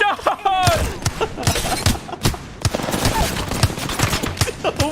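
Rapid bursts of automatic gunfire and sharp shots in the Apex Legends video game crackle in uneven volleys, loud and close, mixed with other game effects.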